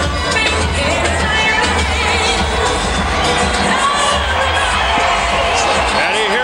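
A packed boxing arena crowd cheers and roars before Evander Holyfield's rematch with John Ruiz: a loud, dense, unbroken wall of shouting and whooping that fills the whole stretch.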